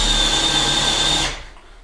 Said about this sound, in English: I'm just countersinking them down with a 10mm